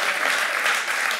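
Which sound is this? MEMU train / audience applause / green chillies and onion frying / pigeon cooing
audience applause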